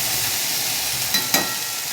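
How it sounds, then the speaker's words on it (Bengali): Ivy gourd (kundli) frying in a little oil, a steady close sizzle running throughout, with two brief scraping stirs near the middle. "তেলের সঙ্গে আমি ভালো করে ভাজবো নেড়ে নেড়ে"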